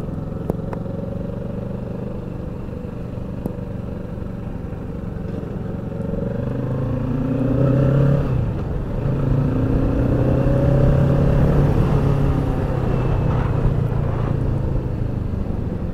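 A Kawasaki Ninja motorcycle being ridden on a test ride, its engine droning steadily and swelling as it accelerates through the gears, with the pitch dropping and rising again at each shift amid wind rumble.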